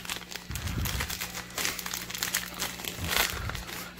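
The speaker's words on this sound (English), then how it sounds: "now let's get into the real reason we're here, and that is to rip open some cards" A foil baseball card pack wrapper crinkles and tears open, with close, continuous crackling and crumpling over a few seconds.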